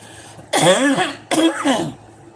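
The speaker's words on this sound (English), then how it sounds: "I'm gonna clear my throat." Two forceful throat clearings in quick succession, close and loud, followed by quiet.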